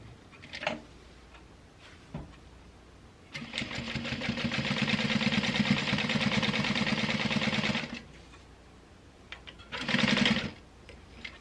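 A sewing machine stitches a seam on a milk box bag in one sustained burst of several seconds, with a shorter second run later and scattered clicks of fabric handling between.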